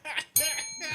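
A radio talk-show bell on WBOK rings with bright sustained tones that ring out after a short lead-in, mixed in with nearby voices talking.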